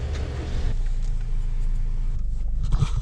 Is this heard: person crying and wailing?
no